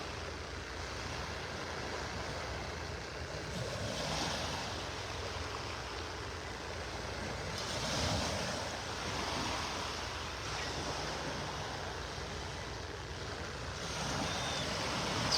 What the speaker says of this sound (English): It's just nice hearing the sounds of the waves and the birds.